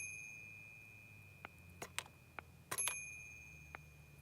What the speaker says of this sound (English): Maybe that's the doorbell.